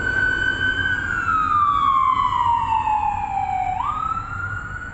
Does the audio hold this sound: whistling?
no